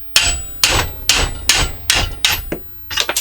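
A punch held in vice grips is struck with a hammer to drive rivets out of a Corvair flywheel, producing seven sharp, evenly spaced metallic blows, loud and close, with no talk.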